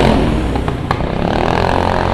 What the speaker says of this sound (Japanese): バイクの音で自分の声が聞こえない。